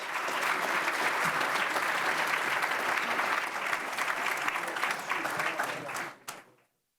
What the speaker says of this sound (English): Big round of applause for Supervisors Foley and Wagner.